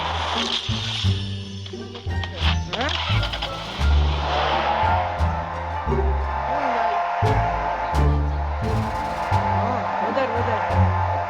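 A Lamborghini in a shooting video game revs and drives with engine notes stepping up and down through gear changes, tire squeals and skids mixed in, loud and continuous throughout.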